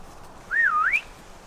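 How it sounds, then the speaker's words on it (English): A single rising and falling electronic alarm tone sounds once, clear and moderately loud, for about half a second near an outdoor tent camp by Frankfurt airport, then quiet ambience. "There goes the alarm"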